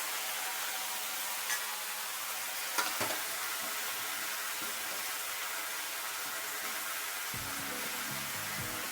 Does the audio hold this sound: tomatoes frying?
yes